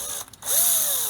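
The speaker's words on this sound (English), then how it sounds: "So let me drill here." A power drill spins up briefly after a short pause, its motor whining with a rising pitch, loud and close.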